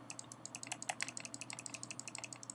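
Rapid, light plastic clicks in an irregular stream, close up and fairly quiet, like a mouse or keys being clicked over and over.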